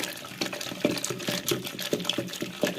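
Water is worked into mashed drumstick pulp, giving close, wet squelching and sloshing in a loose repeating rhythm, with no talk heard.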